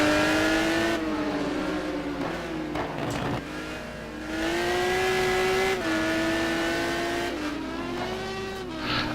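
A Lamborghini GT1 race car screams around the Nurburgring on a hot lap in a racing game, the engine revving up and down through gear changes, loud and close with brief tire squeal.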